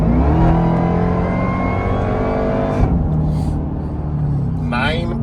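A supercharged Dodge Durango Hellcat engine revs loudly and close, rising in pitch with a steady whine, then drops off to a lower rumble, with a brief hiss and clatter near the end.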